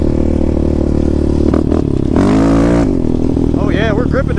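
A Yamaha Grizzly ATV engine revs on a winter group ride, a loud steady motor drone that surges in the middle with rising pitch, with voices heard over it near the end.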